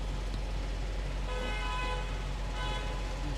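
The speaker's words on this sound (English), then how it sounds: "Who's honking and why?" A car horn honks on the road in two separate bursts over steady traffic rumble, heard from inside a moving vehicle.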